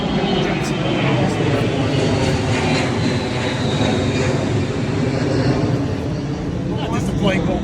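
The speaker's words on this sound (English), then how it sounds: "Just a plane go by, no big deal." An airplane flying overhead in an outdoor garden, a loud steady engine roar that fills the whole stretch without fading.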